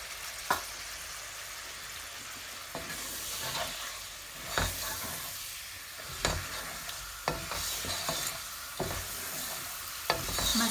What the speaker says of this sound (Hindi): मसाले मिक्स कर लेते हैं हम सारे